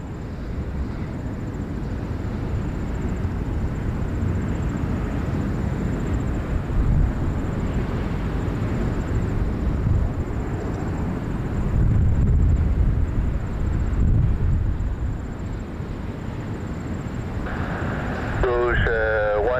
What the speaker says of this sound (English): looking for Air Canada 324 from Calgary to Montreal, 779 Dreamliner